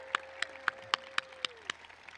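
Scattered handclaps from a small audience acknowledging scholarship recipients at a high school pride day event, about eight distinct claps in a slow, uneven rhythm with no cheering.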